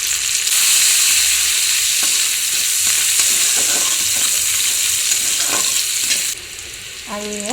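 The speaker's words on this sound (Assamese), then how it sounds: "পাঁচফোৰণ দি কাটি থোৱা পিঁয়াজখিনি দিলোঁ" Finely chopped onions with panch phoron and split green chillies frying in hot oil in a home kitchen, a dense loud sizzle with scattered stirring scrapes that drops briefly near the end.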